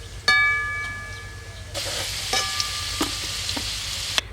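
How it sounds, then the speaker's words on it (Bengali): Potatoes frying in hot oil in a wok, a steady close sizzle with bursts of louder crackle and occasional clinks of a utensil against the pan, no talking. "আলুটা লাল লাল করে ভেজে নিলাম এবার তুলে নিচ্ছি"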